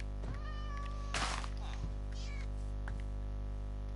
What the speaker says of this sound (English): What is up with the cats around here?